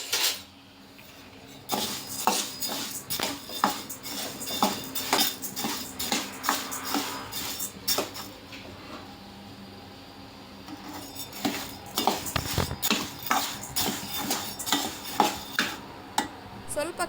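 Repeated scraping and clinking of a utensil against a pan as rice fries for chakli, irregular stirring strokes close by, with a faint hiss underneath and no talking.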